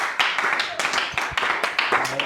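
Applause from a worshipping congregation acclaiming Jesus Christ, a run of hand claps with repeated swells, fairly close and steady, with voices mixed in underneath.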